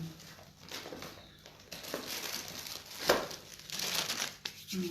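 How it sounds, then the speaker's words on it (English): Playing cards being handled and shuffled during a reading, with soft papery crinkling and rustling that rises and falls throughout, close and fairly quiet, with no talking. "Samantha, I'll change my cards."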